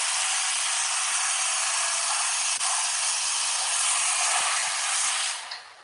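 Ryobi 1622 pressure washer rinsing a car, a steady loud broadband spray hiss held almost the full time before cutting off near the end, with no talk over it.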